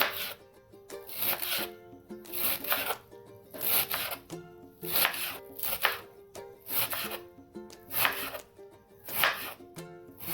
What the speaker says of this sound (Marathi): आता आपण शेपूची भाजी बारीक चिरून घेत आहोत